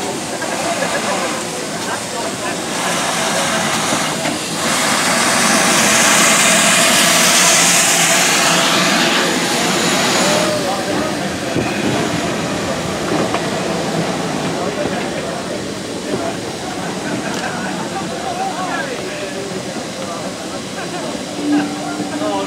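Great Western Railway Hall Class 4930 Hagley Hall steam locomotive at a Severn Valley Railway heritage station, a loud hiss of escaping steam building and fading over roughly ten seconds, then a steady mechanical rumble with people talking throughout.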